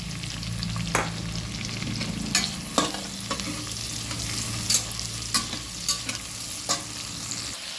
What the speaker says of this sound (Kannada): ಈಗ ಈರುಳ್ಳಿಯನ್ನು ಸೇರಿಸ್ಕೊಳ್ತಾ ಇದ್ದೇನೆ.